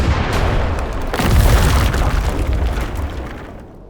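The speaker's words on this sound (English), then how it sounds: "So the building Yahya Sinwar took his last refuge in was ultimately shelled." A deep, heavy boom from a building being shelled in a 3D animation swells to a peak and then rumbles away over a few seconds.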